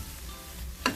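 Beef for Kerala beef varattiyath sizzles softly in a pan as turmeric powder is stirred in, a low steady fry with one sharp scrape near the end.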